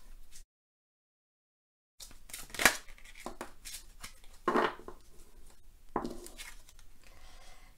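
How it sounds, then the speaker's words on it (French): Tarot oracle cards riffled and shuffled by hand, producing a few short papery flutters and slaps close up after a brief silent gap, with soft rustling in between. "je bats les cartes, je les laisse sauter et je prends uniquement celles qui sautent"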